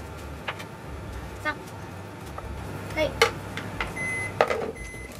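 A running microwave oven gives off a low, steady hum beneath soft kitchen clinks, a few brief tonal beeps and a voice.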